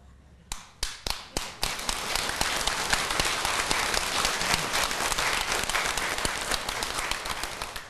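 Audience applause at a Buddhist Dharma talk, opening with a few scattered loud claps that quickly swell into steady, dense clapping from a crowd, close and sustained to the end.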